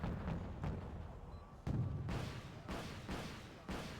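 Artillery cannons fire in a video game, a rapid series of about six heavy booming shots with rumbling tails, fairly faint and steady in rhythm, with no talk over them.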